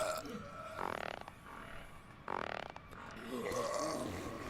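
Exaggerated cartoonish burps from a character in the driving game The Long Drive, three drawn-out belching bursts spaced a second or so apart, fairly quiet and alone.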